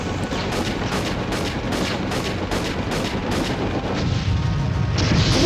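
Loud, dense barrage of gunfire and booming explosions from the video game Army Men Sarge's Heroes 2, a continuous rattle of shots with blasts layered over it and no pauses.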